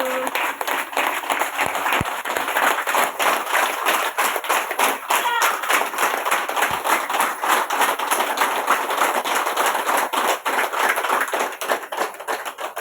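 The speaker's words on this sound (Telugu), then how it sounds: "ఒకసారి భగవద్గీతకి చప్పట్లు" An audience gives a burst of sustained clapping in a hall after a Bhagavad Gita verse is praised during a talk; dense, loud, continuous applause throughout, with no pauses.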